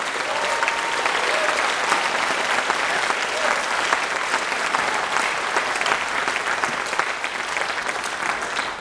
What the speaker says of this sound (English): So a big round of applause for our special guests, Mel Brown, Joff Lee, and Tim Gilson.